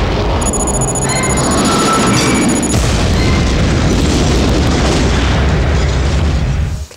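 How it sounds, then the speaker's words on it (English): Gunfire in an action scene from a low-budget movie, loud booming shots and bursts over a dense soundtrack with a high electronic tone early on, fading out at the end. "there's a little bit of gunfire"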